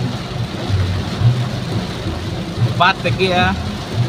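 Rain pattering steadily on a car during a drive-through car wash in Kluang, Johor, a dense continuous hiss with a brief voice speaking over it.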